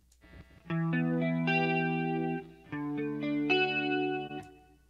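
An electric guitar plays sustained chords through a chorus and reverb effects chain, several distinct strums each ringing out with a shimmering, slightly distorted tail, alone with no talk.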